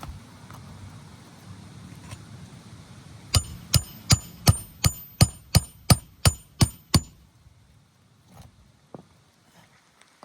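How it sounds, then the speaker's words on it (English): A hammer drives nails into a roof shingle during a roof repair: about ten sharp, evenly spaced, ringing blows in quick succession, close and loud, followed by a few softer taps and quiet background. "I'm just gonna switch back to holding the shingle up and using a hammer."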